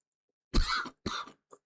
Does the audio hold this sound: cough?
yes